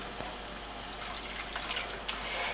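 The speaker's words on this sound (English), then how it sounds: "So I'm going to add a little more water" Water poured into a pan of simmering vegan, gluten-free meat sauce, a soft steady splashing hiss with a few faint drips, heard close up with no talking.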